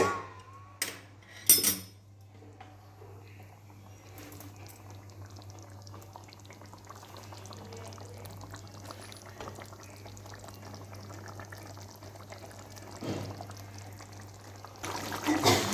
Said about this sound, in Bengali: এটা একটু হালকা ফুটে আসুক।